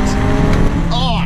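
Turbocharged Audi RS3 engine revving hard in manual mode, a loud steady engine roar with a rising whistling flutter from the blow-off valve near the end, heard close up.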